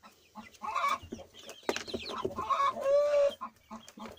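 Young chicks trying carrot for the first time cluck and cheep close by in short, irregular bursts, with one longer call near the end and brief quiet gaps between.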